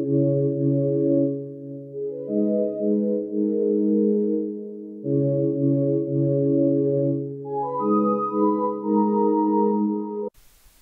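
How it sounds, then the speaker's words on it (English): Sustained, smooth X-Band synthesizer pad chords shifting slowly beneath a higher melodic line in an R&B hip hop sample, steady and fairly loud, ending abruptly. "I then added a pad from X-Band, and it sounds like this."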